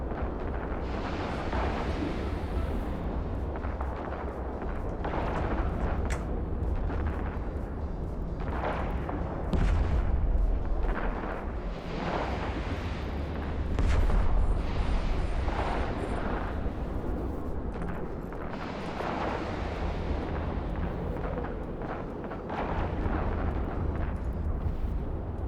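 Rumbling explosions as missile batteries are destroyed in the space game EVE Online, repeated heavy booms over a continuous roar, moderately loud and sustained throughout.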